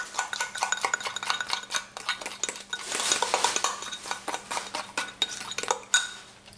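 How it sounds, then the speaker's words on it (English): A spoon stirs corn flour into a paste in a pan for a sherry trifle, giving a close, steady run of scraping and light metallic clinks with no talking. "I'm going to mix these all round until it makes like, it forms a paste"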